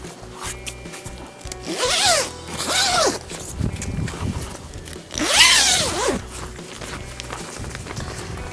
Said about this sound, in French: Une porte principale avec une fermeture éclair de 10 mm.